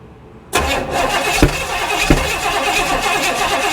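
A Buick 455 V8 bought secondhand from a marketplace listing, cranked for a cam break-in start: after a quiet moment a loud, close rumbling churn begins and holds steady, with a couple of sharp knocks inside it.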